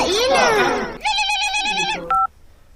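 Rapid electronic keypad tones beep in a quick sequence, following a warbling chime, with a short final double tone before quieter room noise.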